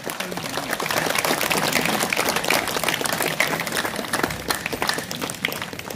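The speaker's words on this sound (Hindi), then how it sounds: "एक बार जोरदार तालियों से इनका स्वागत करें।" An outdoor crowd claps vigorously to welcome a flag guard squad at a Beating Retreat ceremony on the India-Pakistan border at Suchetgarh, a dense, sustained patter of applause that fades slightly near the end.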